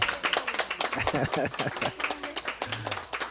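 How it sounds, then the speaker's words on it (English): Audience applause at the close of a live talk show, a dense run of hand claps with speech-like voices mixed in through the stretch. "Everybody give a round of applause to Ms. Kira."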